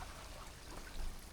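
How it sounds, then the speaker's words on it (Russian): Spring water trickles and pours steadily in a clean stream in the Magadan region. The flow is soft and continuous with a slight swell near the end, heard on its own. "Ну вот и в Магаданской области есть чистые реки,"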